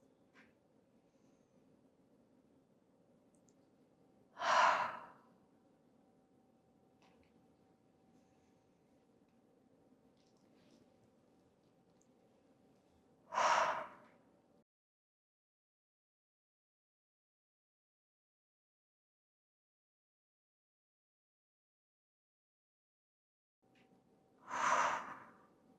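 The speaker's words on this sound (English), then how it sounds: "take a nice deep inhale through the nose and exhale through the mouth" Three slow, deep exhales through the mouth during a yoga flow, each a soft breathy rush spaced several seconds apart against near silence and a faint low hum.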